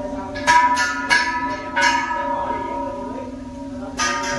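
A bell at a temple in Bangkok's Ancient City, struck about four times at uneven intervals. Each strike leaves bright overlapping tones ringing and slowly fading, heard fairly close and clear.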